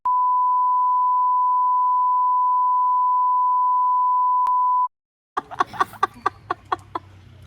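A long steady electronic beep tone holds for several seconds, cuts off, then brief clucking bird calls follow.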